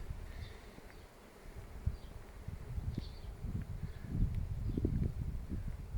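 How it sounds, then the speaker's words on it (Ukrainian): Honey bees buzz around blooming acacia in spring, a faint, steady low drone of many insects close by, rising slightly in the last seconds, with no voices. "На акації гул вже більший."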